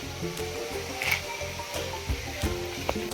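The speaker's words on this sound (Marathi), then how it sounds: "तर आता डाळ सुद्धा आपण तळून घेऊ डाळसुद्धा चांगली बारीक गॅसवरती तळून घ्यायची आहे" Dal (lentils) frying in oil over a low gas flame while making bhadang chivda, giving a steady soft sizzle with light crackles and a few small pops, close and continuous with no talk.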